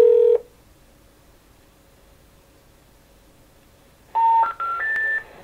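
Telephone keypad DTMF dialing tones: one tone at the start, a long stretch of near silence with a faint line hum, then three quick steady tones in a row, clear and alone.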